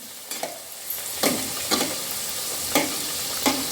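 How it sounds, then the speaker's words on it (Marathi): Karanji, stuffed wheat-flour Maharashtrian pastries, deep-frying in hot oil under a steady sizzle, with regular sharp clinks and scrapes from a utensil turning them every half second or so. "दोन्ही साईडनं करंजी तळून घ्यायची."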